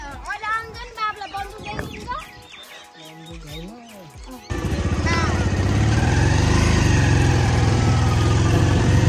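A motorbike being ridden on a fishing trip: voices talk for the first few seconds, then a loud, steady engine roar starts abruptly and runs close up to the end.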